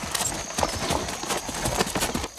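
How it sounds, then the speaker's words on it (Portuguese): A Campolina mare from Minas Gerais walks with a steady clip-clop of hooves, each footfall crisp and close in a regular marching rhythm, heard alone without talk. "Doutor Aloísio monta agora uma égua da raça Campolina, também desenvolvida em Minas Gerais"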